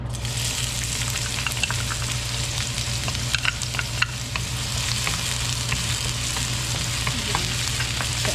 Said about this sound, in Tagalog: pag mainit na po, lalagyan lamang po natin ng konting mantika. At ilalagay na po natin itong sibuyas muna.